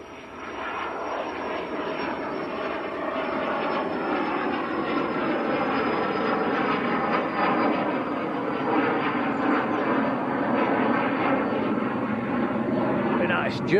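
A Cessna Citation business jet takes off at Manchester Airport: a loud, steady engine roar with a thin, high whine that slowly drops in pitch, while someone talks over it throughout.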